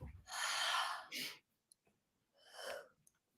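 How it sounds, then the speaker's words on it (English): A person yawns close up, a long breathy exhale with a brief catch, followed after a pause by a second shorter breathy sigh, quiet and alone. "That was just a yawn from me."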